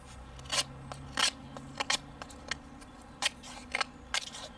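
Cutting with a cheap Ozark Trail 8-in-1 multi-tool knife blade. Gives a series of sharp, quiet snips and crunches spaced irregularly, heard close up with no talking.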